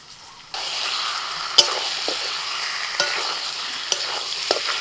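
Prawns and pointed gourd tipped into spiced potatoes frying in a pan, a sudden burst of sizzling that continues steadily, with occasional clinks and stirring knocks close by.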